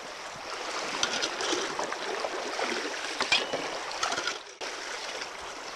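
Gold-bearing material is scooped into a 2-gallon bucket fitted with a metal mesh classifier. It makes a steady, gritty wet rush with scraping clicks and a brief pause near the end.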